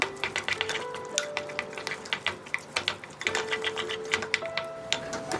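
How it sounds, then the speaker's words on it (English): A wooden spoon works flour into a hot boiling mixture in a pot, producing quick irregular clicks and knocks close by over light background music. "Stir hot with a wooden spoon until all of the flour is incorporated."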